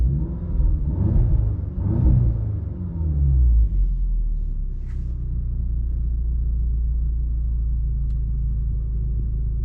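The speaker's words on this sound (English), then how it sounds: "This is how much noise the inside makes." Interior of an APR-tuned 2016 Audi S3 sedan with a Remus exhaust, running at about 380 hp: a low, steady cabin rumble with rising engine tones early on, then settling into a constant drone.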